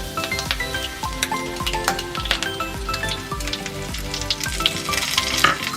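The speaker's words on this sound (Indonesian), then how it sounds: "Kita tumis bawang putih cincang halus." Steady crackling sizzle of minced garlic frying in hot oil, with repeated clinks and scrapes of a utensil stirring the pan throughout, while cooking Chinese-style fried rice.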